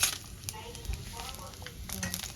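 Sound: dry red chillies, cumin and bay leaf frying in oil

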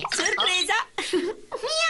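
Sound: cat meowing

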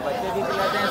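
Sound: goat bleating at a livestock market

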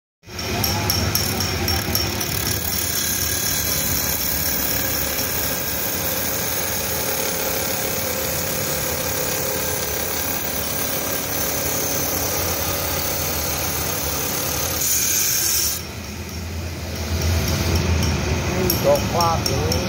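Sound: rotary grinding machine polishing bacan gemstone

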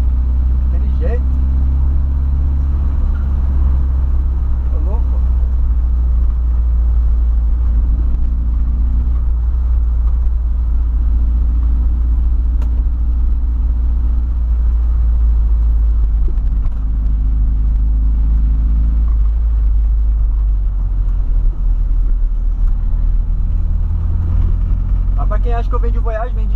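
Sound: Volkswagen Voyage car engine revving hard

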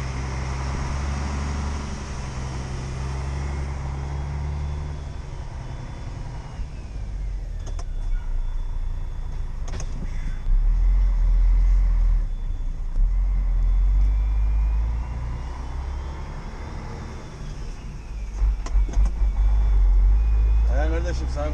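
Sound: truck (TIR) engine running

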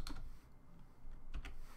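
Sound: typing Rust code on a computer keyboard

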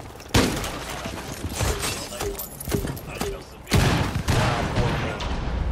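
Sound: grenade explosion destroying objects in Rainbow Six Siege video game

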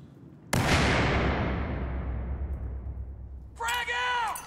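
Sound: grenade explosion in Battlefield 4 video game

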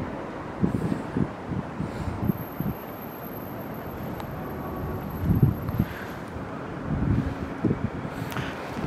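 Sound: wind

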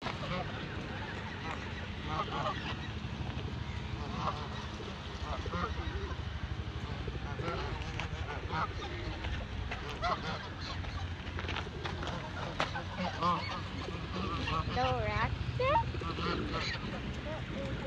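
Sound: birds honking and squawking after being fed

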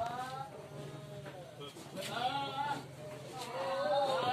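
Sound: goats bleating

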